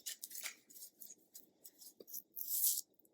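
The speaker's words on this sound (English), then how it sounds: "So let me shuffle for you and see what the cards have to say" Tarot cards are shuffled in quick, close, crisp bursts of riffling and sliding, ending in a louder flutter, with no speech over them.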